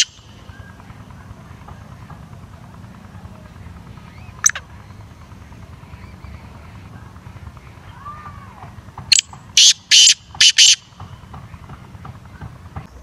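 A black francolin calls outdoors in a quick series of sharp, loud, close notes, one brief call first and then a cluster of four or five rapid calls, with a low steady background rumble between.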